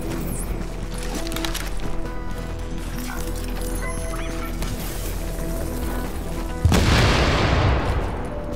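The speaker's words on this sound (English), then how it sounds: "Oh no, you threw a grenade." A grenade blast in a shooter game, one loud sudden boom that breaks over steady background game noise and decays into a rumbling wash.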